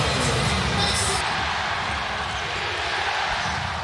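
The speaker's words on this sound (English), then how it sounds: "Listen to this home crowd" Loud, steady roar of a home arena crowd at a FIBA Basketball World Cup game between the Philippines and Italy, a dense, continuous wall of cheering with basketball bounces and faint talk mixed in.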